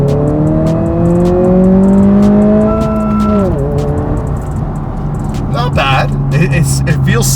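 A car pulls hard in second gear from about 3,500 rpm, engine note climbing steadily in pitch for several seconds, then dropping at a shift and settling into a steady drone, with a voice talking over it.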